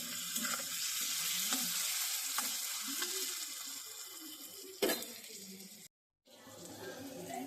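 Ripe tomatoes with turmeric and chili sizzle steadily in a pan, releasing their juices, with occasional stirring clatter, a sharp knock near the end and a brief gap of silence before the frying resumes; faint speech-like sounds mix in.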